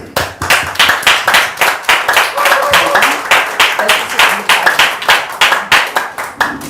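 An audience at a seminar claps in unison to welcome the chairman, loud close rhythmic beats in a steady regular pulse, with a few voices faintly underneath.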